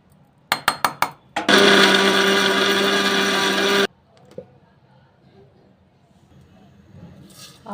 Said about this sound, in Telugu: చుక్కకూర వేసుకొని మిక్సీ పట్టుకుందాం.